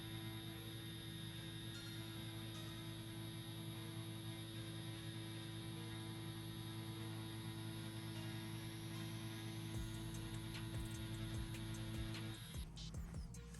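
Tattoo pen machine running at 7.5 volts, giving off a steady, close electric hum with a tonal buzz that holds evenly and then shifts near the end, with no talking.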